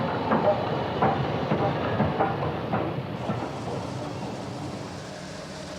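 A steam locomotive hauling a local train along the Firth near Invergordon in the Scottish Highlands rolls steadily with soft rhythmic clicks of wheels on rail joints and a low rumble, moderately distant.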